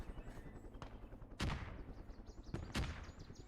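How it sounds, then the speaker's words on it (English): Mortar fire in the Vietnam War strategy game Gates of Hell, heard as three faint, distant explosive thumps over a low, continuous battlefield rumble, with the last two blasts close together. "I hear what could be mortars"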